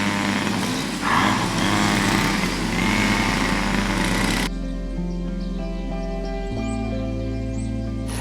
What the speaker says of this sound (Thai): พี่ๆเขากำลังตัดหญ้าพอดี